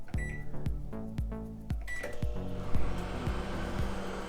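A microwave oven in use, with a series of sharp keypad beeps followed by the steady hum of the oven running, close and fairly quiet, no talking.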